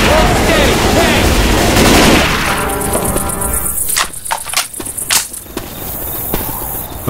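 Left 4 Dead 2 gunfire aimed at the Tank on The Parish, with a loud roaring rumble first, then a burst of sharp rapid shots, near and heavy.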